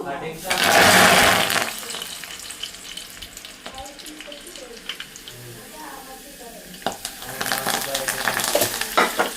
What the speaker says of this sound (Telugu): నేనైతే స్టవ్ ఆఫ్ చేశాను, ఎందుకంటే బాగా మరిగిపోయింది కదా నూనె